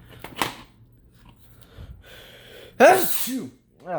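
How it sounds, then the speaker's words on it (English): A single loud sneeze bursts out near the end, preceded by a sharp intake of breath and some quiet shuffling, with a brief breathy sound after. "I'm about to sneeze for a second."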